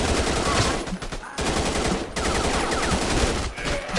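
Rapid automatic gunfire in the VR shooter game Alvo, dense bursts of loud shots with brief gaps between volleys, close and dominating, a player speaking faintly underneath.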